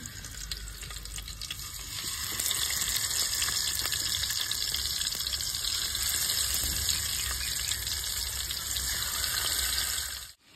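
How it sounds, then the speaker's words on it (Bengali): Fish sizzling steadily in hot mustard oil in a pan, part of a rustic village-style Bengali fish curry; a loud, dense crackle that swells after the first couple of seconds and holds, with no talking. "তেল গরম হয়ে গেছে, মাছ ভেজে নেবো। মাছ দিয়ে দিচ্ছি।"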